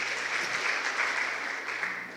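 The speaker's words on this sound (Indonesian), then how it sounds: "Tepuk tangan dulu buat Tuhan Yesus." Applause from a church congregation during a youth pastor's sermon, a steady, fairly quiet wash of clapping lasting a couple of seconds with no talking over it.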